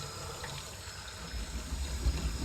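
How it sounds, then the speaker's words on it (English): Lukewarm tap water pouring around a bottle-tumbling canister, a steady hiss of running liquid with low gurgling swelling toward the end, close and unaccompanied by voices. "Then I'm going to fill water up around the outside."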